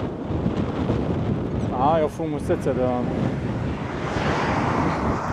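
Steady outdoor wind beside the Olt River rumbles and buffets the microphone throughout, with a voice speaking briefly in the middle.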